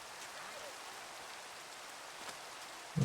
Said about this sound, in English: I must be in like monsoon season in my world, because it has rained probably 3 times today